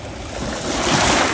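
Black Sea surf washes onto the shore in Georgia, a broad rushing hiss that swells louder midway, mixed with wind buffeting the microphone, with no talking.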